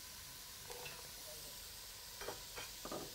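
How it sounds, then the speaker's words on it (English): Chopped vegetables such as zucchini and carrot hit a hot pot for vegetarian minestrone soup and sizzle steadily, with a few sharper bursts of crackling as they are stirred in, close and with no talking. "And now we put all the other vegetables in."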